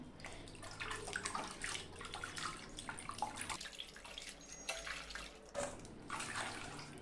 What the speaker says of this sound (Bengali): এভাবে জল পাল্টে পাল্টে আমি দু থেকে তিনবারের মতো ধুয়ে নিব